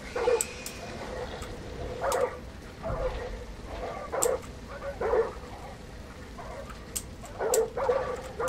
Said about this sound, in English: Fucking shut up, dog.